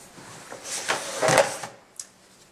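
A Big Shot die-cutting machine is hand-cranked with a cutting-pad sandwich, giving a brief rolling, grinding mechanical rumble that swells and fades, then a single small click.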